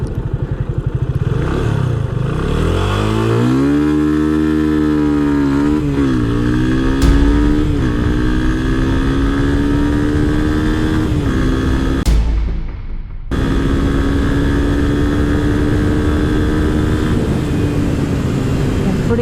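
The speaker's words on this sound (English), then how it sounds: "It's got a lot of punch when you really ring the throttle and make the motorcycle sing." A Yamaha FZ25 motorcycle engine revs hard at full throttle, climbing in pitch over several seconds, briefly dropping off around mid-clip, then pulling strongly again, loud and close throughout.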